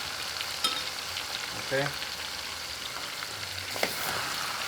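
Meat frying in sunflower oil in a pan, giving a steady close hiss and crackle throughout, with a couple of brief clatters from stirring and a short spoken word over the top.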